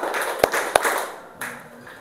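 A group of students in a classroom clapping game claps sharply twice, then gives a softer clap, close and clear with faint murmuring between.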